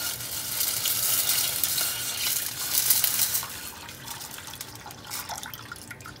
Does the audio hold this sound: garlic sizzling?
yes